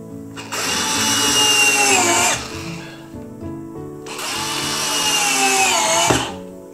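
A power drill drives screws into a wooden canvas frame in two loud whining bursts, each about two seconds long, separated by a short pause with light handling noise.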